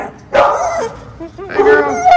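A big four-month-old female puppy at an animal shelter gives high, whining yips and short barks close by. The sharp cries rise and fall in two bursts.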